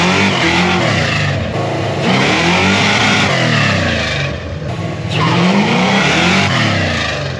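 Fox body Mustang with QA1 suspension launching hard from a short pad, engine roaring at high revs with tire squeal and wheelspin, loud and close, sustained for several seconds with brief dips between pulls.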